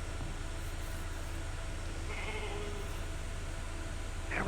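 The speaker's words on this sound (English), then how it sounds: "Never thought I'd be so glad to see a sheep." Sheep bleats from a video game, faint and brief over a steady layer of game ambience, with a short higher cry near the end.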